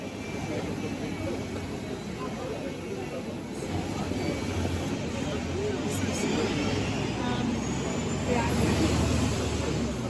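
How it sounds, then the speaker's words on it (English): A city bus pulls away along a Porto street, its steady engine rumble and road noise filling the scene continuously at close range, with traffic around and people talking underneath. "Waiting for the bus to drive away."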